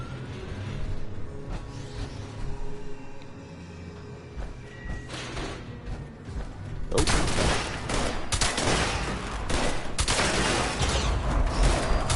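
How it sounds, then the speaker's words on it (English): Gunfire in the video game Fallout 76, starting with quieter ambient game sounds and then turning into a dense, loud burst of rapid repeated shots with crashing impacts. "I like using shotguns on robots."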